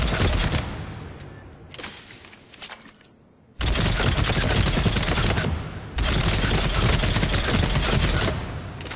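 Phaeston assault rifle fired at point-blank range with a scope in the video game Mass Effect 3, long loud bursts of rapid automatic gunfire broken by a short pause, no talk over it.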